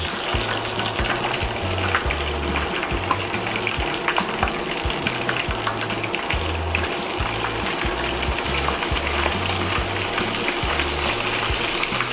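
Korean fried chicken pieces sizzling in hot oil during a second fry, a dense, steady crackling bubble that runs loud and unbroken throughout with no voices.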